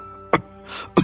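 An elderly woman coughs twice, short sharp throaty bursts separated by a pause, close and clear with no talking.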